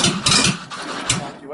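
A Renault 4L engine sputters and nearly stalls, its uneven running pulsing and faltering close by while someone talks over it.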